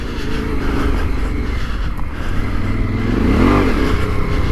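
A Yamaha Ténéré 700 rides off-road through water ruts and washes. Its engine makes a loud, continuous drone with wind rush, rising in revs toward the end.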